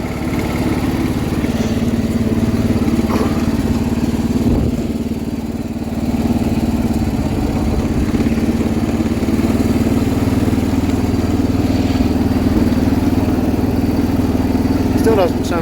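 A 1979 John Deere 216 garden tractor engine running just after a carburetor adjustment, a loud, continuous, slightly uneven mid-pitched drone with a faint clatter, up close throughout with no pauses.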